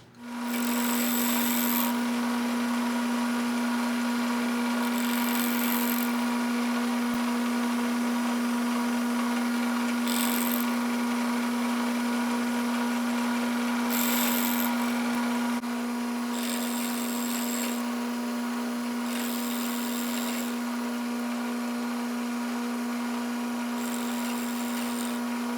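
A milling cutter takes a shallow 25-thousandths cut into a repurposed engine piston clamped in a vise, giving a loud, steady motor whine with a sustained tone and recurring bursts of bright, high-pitched cutting screech.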